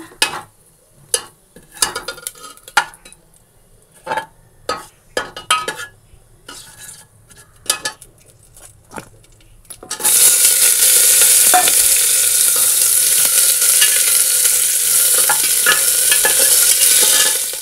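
Dried chili and bay leaf dropped into hot frying oil for tempering: first a series of clinks and scrapes of a spoon against a pan, then a sudden loud, sustained sizzle that runs to the end.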